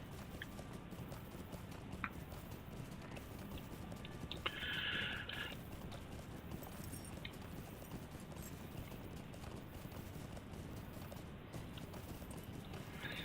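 Horse hooves clip-clopping steadily in Lord of the Rings Online as a rider travels on their own mount, a faint continuous trotting rhythm over ambient game background, with a brief brighter chime partway through.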